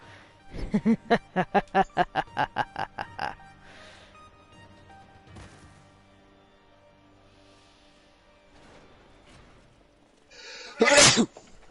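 A character in a Final Fantasy XIV cutscene lets out a loud sneeze near the end, following a run of rapid rhythmic bursts and quieter background sound, with no speech.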